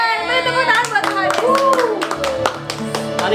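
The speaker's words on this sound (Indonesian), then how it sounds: "Beri tepuk tangan buat Tuhan." Children clap their hands during a kids' church worship service, a series of sharp, rhythmic claps over sung or spoken voices and musical tones, loud and close.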